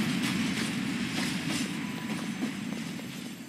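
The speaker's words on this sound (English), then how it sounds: "I'm in the train right now." Steady rumble of a moving train in the Roblox game Mad City, with faint rhythmic clicking of wheels over the rails, continuous throughout.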